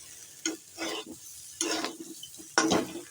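Cauliflower frying with spices in a pan as a little water is added, giving three close bursts of stirring and scraping, each followed by a loud sizzle.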